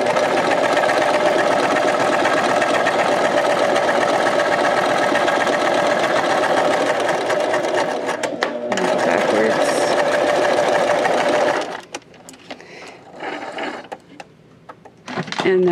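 A sewing machine runs continuously close up while stitching a linen pocket, with a dense rapid whirr for about twelve seconds before it stops. Light handling noises follow and a person speaks briefly.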